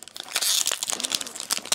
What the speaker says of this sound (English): I'm going to open the pack normally this time